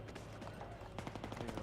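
Enemy machine gun fire in Battlefield 3 on PS3, during a Conquest match on the Haven map: rapid, fairly faint bursts of gunshots that grow denser and louder toward the end, with no talking.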